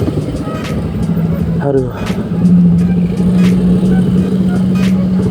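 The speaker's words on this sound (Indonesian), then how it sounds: "pas keluarnya macet tuh ini di jalur Gede Bage" Congested road traffic on the Gede Bage route, with idling and moving cars and motor vehicles rumbling steadily nearby, a steady engine drone throughout and a brief voice exclaiming over it.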